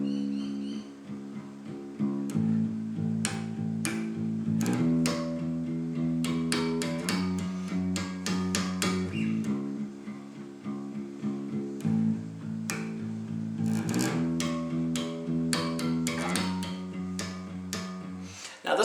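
Bass guitar playing a riff with added rhythm, repeated plucked low notes in a steady pulsing pattern, moderately quiet and alone with no talking.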